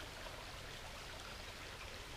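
A river stream near waterfalls in Batangas flows as a steady, even rush of water, soft and constant throughout with no voices.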